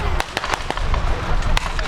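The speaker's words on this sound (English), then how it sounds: "trench mortars replying, trying to keep the Allied troops' heads down." Trench mortars firing at a battle reenactment, sharp distant bangs popping out at irregular intervals over a constant outdoor rumble, with a voice talking over them.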